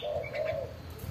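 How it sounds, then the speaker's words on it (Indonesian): A dove gives a soft, close coo lasting about a second, a single clear rolling note, with faint chirps in the background. "di sini kita menjemur burung anggungan kita, ada kukur, ada perkutut,"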